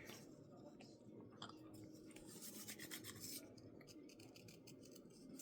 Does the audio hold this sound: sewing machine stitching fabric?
no